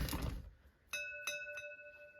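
A metal National Time & Signal fire alarm box, struck like a bell, rings three times at steady intervals, each strike with clear sustained overtones that decay slowly, following a brief noisy rustle.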